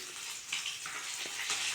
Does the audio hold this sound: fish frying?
yes